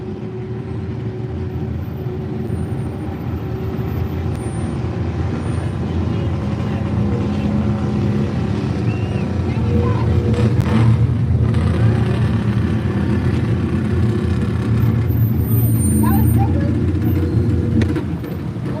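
A vehicle powers through a small tire mud pit at an off-road bounty racing event, its engine roaring steadily at mid-distance, while a commentator talks over it throughout.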